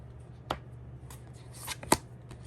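Tarot cards are shuffled quietly by hand, giving a couple of soft riffling bursts and a sharper snap near the end against a low background hum.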